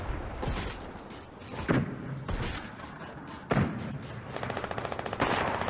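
Video game gunfire during a duos match: bursts of shots and sharp impacts, loud and close, with a quicker rattling run of rapid fire near the end.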